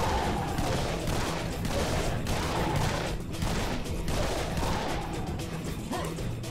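Pistol shots fire relentlessly in the video game Serious Sam's Bogus Detour, buried in a dense, unbroken wall of game combat noise that stays loud from start to finish.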